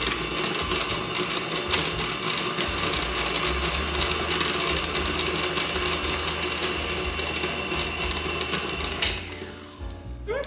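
Electric mixers fitted with paddles beat sweet potato dough with a loud, steady mechanical whir and rattle that continues for about ten seconds, then drops off near the end.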